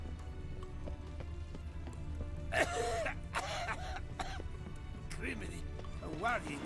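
Game character coughing in The Witcher 3: Blood and Wine, a few rough broadband bursts over steady background game music and ambience.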